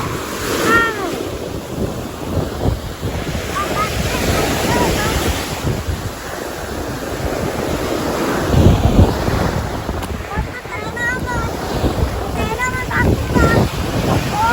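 Sea waves wash onto a beach at Laem Charoen in Rayong, Thailand, a steady surf roar with wind buffeting the microphone throughout, and voices come and go faintly beneath it.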